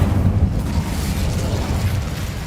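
The Incendio fire spell is cast in the Hogwarts Legacy video game, producing a loud, sustained roaring burst with strong low rumble that fades slightly toward the end.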